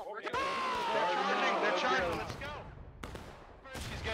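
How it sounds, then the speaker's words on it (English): Rifle fire in the Civil War game War of Rights: a few sharp shots crack out after a stretch of loud shouting and battlefield noise, with spaced reports near the end. "Six shots."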